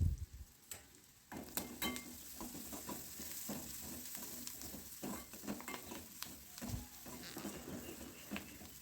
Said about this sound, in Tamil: கொஞ்சமாக வெந்தயப்பொடி சேர்த்து நல்லா மிக்ஸ் பண்ணி விட்டுடலாம்.